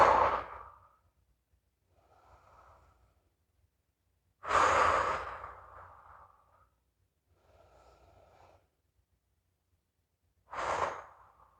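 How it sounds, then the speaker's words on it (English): Deep breaths taken in a yoga squat: three long inhale-exhale bursts several seconds apart, close and fairly loud, with softer quieter breaths between them and no talking. "We're going to take 3 deep breaths here."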